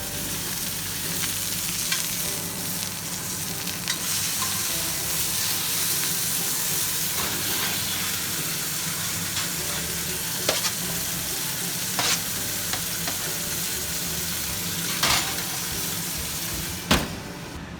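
Brussels sprouts frying in a pan give a continuous close sizzle with scraping stir strokes and a few sharp clacks of utensil against the pan.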